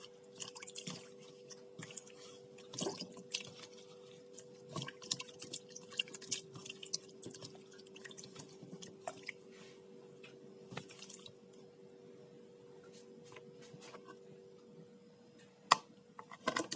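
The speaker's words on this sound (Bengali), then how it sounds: "আমগুলো ছিলে নেব, আমরা ভালো মতো ছিলে নেব।" Mangoes are peeled by hand, giving soft, wet squishing and dripping sounds. The sounds are quiet, close and intermittent, with a few sharper clicks and a steady low hum behind them.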